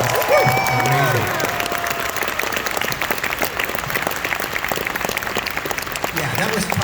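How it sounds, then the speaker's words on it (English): An audience at a convention opening ceremony applauds event staff with sustained, dense clapping, and voices rise briefly at the start. "give the loudest applause to all the staff members who put this event on"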